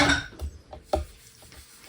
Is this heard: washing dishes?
yes